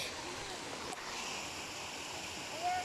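Waterfall on a rugged walking trail near Türkeli, Sinop, a steady broadband rush of falling water heard alone at moderate level, with no talking.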